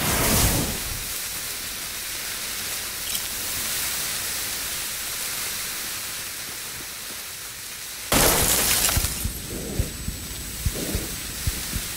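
Incendiary grenade glass shattering in Insurgency Sandstorm, a loud crash at the start and again around eight seconds, with a broad hiss and fire-like noise between and a few sharp cracks near the end.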